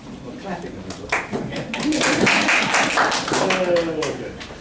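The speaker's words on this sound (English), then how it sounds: "Everybody gets a clap." A small group clapping in a meeting room, a short burst of applause that swells and fades over a few seconds, with voices talking over it.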